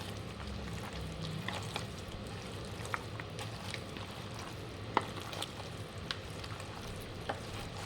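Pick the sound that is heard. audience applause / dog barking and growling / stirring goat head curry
stirring goat head curry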